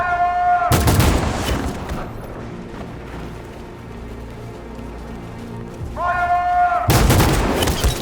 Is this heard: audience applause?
no